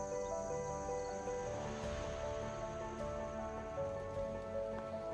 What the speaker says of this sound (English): It started absolutely pouring with rain